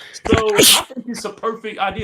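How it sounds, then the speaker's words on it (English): A man sneezes into an unmuted microphone during a sports talk broadcast, a single sharp burst between stretches of conversation. "He unmuted his mic just to sneeze."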